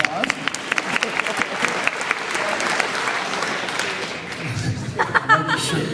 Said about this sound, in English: Ladies and gentlemen, that's Colby. Nice round of applause.